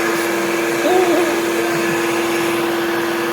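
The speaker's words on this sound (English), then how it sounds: "Let me get the vacuum cleaner." A vacuum cleaner drones steadily and loudly nearby, its motor whine holding constant with a brief pitch wobble.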